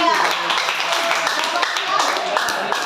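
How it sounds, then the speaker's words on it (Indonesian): A high school class at SMAN 88 Jakarta claps for a student group, with scattered, fairly close clapping running under voices and classroom chatter for about three seconds. "tepuk tangan untuk kelompok 3"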